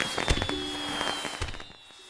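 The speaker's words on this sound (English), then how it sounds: "followed by a firework display with a lot of the Kickstarter backer names" Video game fireworks during an ending credits sequence, with several soft pops and crackling bursts over a faint musical tone, fading away toward the end.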